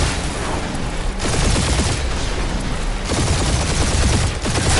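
Rapid bursts of sci-fi spaceship gunfire fill a dogfight in the video game Guardians of the Galaxy, loud and continuous, with dense overlapping shots and explosions that swell and dip every second or so.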